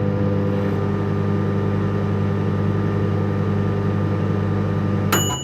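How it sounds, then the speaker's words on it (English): A microwave oven in a holiday-centre kitchen hums steadily with a turbine-like drone, continuous and close for several seconds before shutting off with a click and a brief high beep at the end. "such a holiday center kitchen has a microwave in the kitchen, giving us some nice turbine-like turning on and off sounds"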